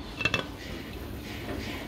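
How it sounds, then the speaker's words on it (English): A pot of shrimp soup boiling on the stove knocks its lid in two quick metallic rattles, then settles into a soft bubbling hiss. "Now that it is boiling, making some fun noises, trying to kick the top off."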